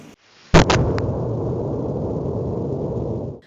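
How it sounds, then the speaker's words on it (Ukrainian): Russian missiles strike a TV tower at dawn: one sudden loud blast, followed by a sustained roaring rumble that lasts for several seconds with no voices. "На цих кадрах зафільмовано момент влучання російських ракет по телевежі на світанку 16 березня."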